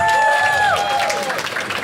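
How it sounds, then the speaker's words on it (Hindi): Audience at a stand-up comedy show breaks into clapping, a dense patter of many hands held at a steady level, with a gliding electronic tone sounding over it early on. "ताली बजाओ सब लोग"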